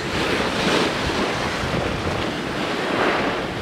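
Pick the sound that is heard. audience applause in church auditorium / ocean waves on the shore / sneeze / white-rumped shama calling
ocean waves on the shore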